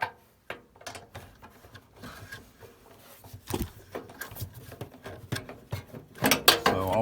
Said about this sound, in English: we need to get these two screws out